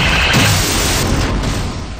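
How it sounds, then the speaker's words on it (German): Space combat in Wing Commander: Secret Ops, with cannon fire and rocket explosions pounding an alien ship's structures: a loud, dense, continuous roar of blasts and booms with no pauses. "Mit ein paar Schüssen und Raketen zerstören wir hier die Aufbauten des Aliens."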